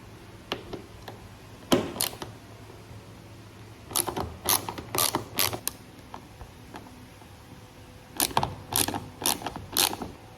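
Ratchet clicking in quick bursts while backing out T30 Torx screws from a Toyota Tacoma roof rack, loud and close, with pauses between runs of rapid ticks.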